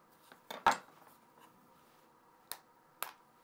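Squares of chocolate snapped apart by hand in a kitchen for a holiday chocolate mousse, a few sharp, close cracks spaced irregularly, the loudest early, then two more after a pause.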